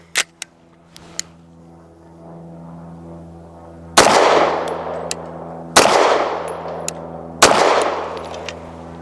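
A BUL Armory TAC PRO 5-inch pistol fires PMC 124-grain rounds: three loud, sharp, close shots about two seconds apart after a few faint clicks, each with a ringing decay.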